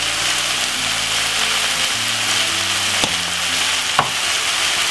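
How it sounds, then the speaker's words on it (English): Spices such as cinnamon and ginger frying in a pan for chilli con carne, a loud steady sizzle with stirring and a low humming background, plus a couple of sharp knocks. "Give it a stir."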